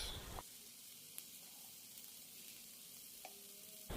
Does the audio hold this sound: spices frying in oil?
yes